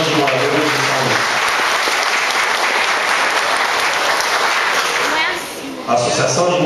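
Loud, sustained applause from an audience at a residents' association ceremony in São Luís, dense clapping that dips briefly near the end before swelling again.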